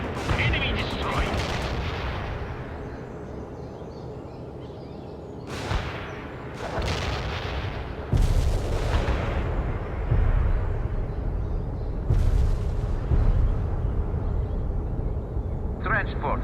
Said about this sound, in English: I am calling in a strike now